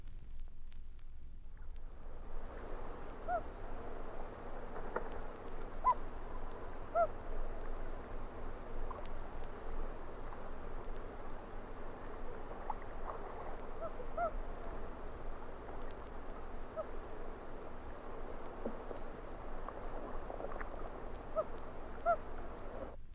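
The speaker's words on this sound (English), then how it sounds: "Here is a series of hoots from a single loon." A single common loon gives a series of hoots, a long steady tone held high above a faint background hum that changes pitch little, sounding clear and fairly near throughout.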